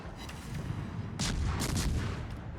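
Naval artillery fires armor-piercing shells in a warship battle video game, a cluster of muffled booms over a rumbling background, fairly quiet and fast.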